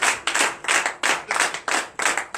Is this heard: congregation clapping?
yes